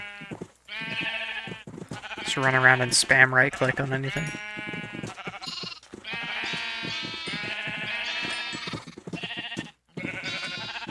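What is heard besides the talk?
sheep bleating in Minecraft video game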